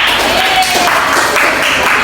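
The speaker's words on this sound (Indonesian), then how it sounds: "beri tepuk tangan dulu untuk kita semua" A classroom group gives sustained applause, a dense, even wash of many hands clapping at close range throughout, with voices mixed into it.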